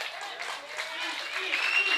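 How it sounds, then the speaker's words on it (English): Crowd at a pro wrestling heavyweight championship match cheering and applauding steadily, a broad wash of clapping and shouts that builds slightly toward the end. "That feel good to have these people cheering for you?"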